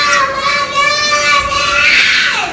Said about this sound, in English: you don't have to scream.